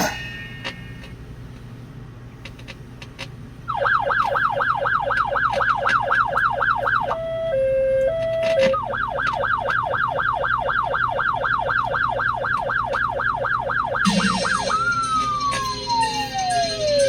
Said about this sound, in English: there goes a police car